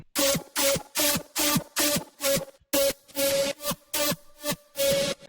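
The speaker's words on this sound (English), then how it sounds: "they have a noise synthesizer which amplifies the drop lead sound" A noise synthesizer layered with a drop lead in an electronic track plays about a dozen evenly spaced, punchy chopped bursts, each a loud noisy hit with a sustained tonal core and short gaps between.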